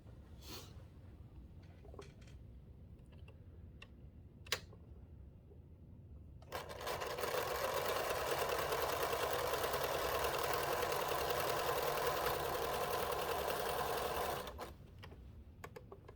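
A sewing machine stitches a scant quarter-inch seam on quilt half-square triangles, running steadily and loudly for about eight seconds after a few light clicks and handling noises, then stopping.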